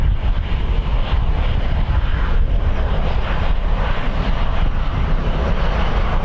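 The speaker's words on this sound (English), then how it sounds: "the planes touch down right in front of you" A plane touching down on the runway at Dublin Airport on a windy day, a loud steady roar of engine and rushing air with heavy wind buffeting the microphone throughout.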